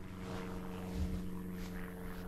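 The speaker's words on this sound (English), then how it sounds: "We got a plane up there." A propeller plane passes high over a rural hay field, its steady low engine drone faint and distant beneath outdoor ambience.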